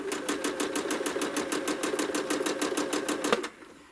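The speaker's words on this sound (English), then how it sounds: "stitching a somewhat straight line in the ditch." Domestic sewing machine stitching a fairly straight line in the ditch while freehand quilting an appliqué piece with loft, a fast, steady, even run of needle strokes that stops abruptly near the end, close and alone.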